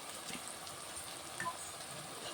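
Chicken frying in a pan with onions, tomatoes and coriander powder, a soft steady sizzle with light crackles and faint stirring, close and fairly quiet, no talk.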